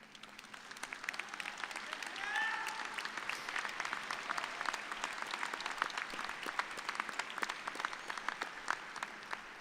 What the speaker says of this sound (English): I ask you, our graduates, to please stand and applaud their contributions to your